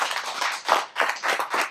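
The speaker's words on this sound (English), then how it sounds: "A round of applause for everybody." A small group claps by hand in a brisk burst of irregular slaps, close and fairly soft, at a comedy show set at a brewery.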